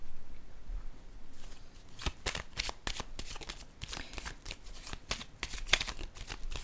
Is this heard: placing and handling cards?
yes